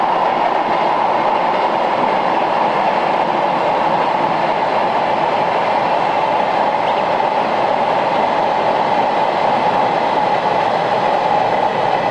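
The Twilight Express sleeper train rumbles steadily along the rails in Hokkaido toward Goryokaku, a constant loud roar heard from inside the carriage with no voices.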